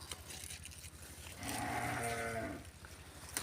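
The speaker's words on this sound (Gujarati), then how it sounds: "ગાય માતાજી આ બાજુ બાંભરે છે ટાઈમ થઈ ગયો હોય હવે દોવાના એટલે બાંભરે" A cow lows once at milking time on a farm, a single drawn-out moo of about a second, moderately near and faint, with quiet background around it.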